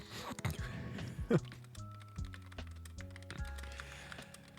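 Keyboard keys clacking in short bursts, soft and close, with some low tonal hums in the background.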